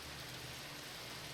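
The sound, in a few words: rain in Minecraft Sky Factory 3 video game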